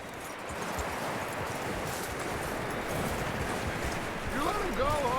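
Horse hooves clip-clopping at a steady walk in Red Dead Redemption 2, with a continuous rustle of wind and ambient outdoor noise around them and a few brief bird-like chirps near the end.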